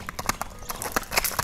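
A long-necked, purebred horse at a bazaar stamps and shifts its hooves, giving a quick run of sharp clip-clop strikes close by over a short moment.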